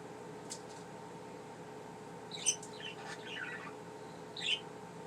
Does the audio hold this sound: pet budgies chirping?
yes